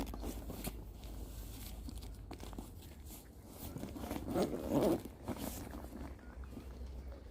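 A zipper on a Snugpak Stratosphere hooped bivvy is drawn up in one continuous pull, swelling to a louder burst near the end, with soft rustling and shuffling of fabric around it and no talking.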